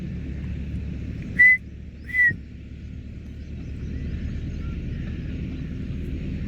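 Grey francolin partridge, a young bird, calling twice in quick succession with short shrill whistled notes over a steady low background rumble, then falling quiet.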